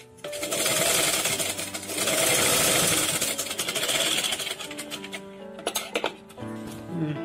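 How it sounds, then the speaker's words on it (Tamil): A sewing machine runs in steady bursts, stitching a folded strip of waste cloth to make a fabric hair band, with a brief pause and a few sharp clicks near the end. "இதை இப்படி உள்ளே வச்சு இதில் ஒரு தையல் போட்டுடணும்."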